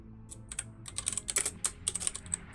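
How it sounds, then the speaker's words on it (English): Quick, light typing on a computer keyboard, a busy burst of irregular clicks and clacks close to the microphone, with no talking. "I'm hearing your keyboard."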